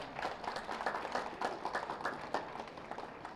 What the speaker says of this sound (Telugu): గట్టిగా ఒకసారి క్లాప్స్ కొట్టుకుందాం.